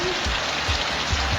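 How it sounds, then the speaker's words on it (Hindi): Steady rain pours down in Khyber Pakhtunkhwa, a dense even hiss of drops striking surfaces, close and continuous with no voices. "इस मुल्क में बारिश हुई है।"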